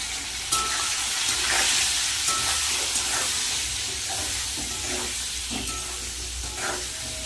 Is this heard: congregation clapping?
no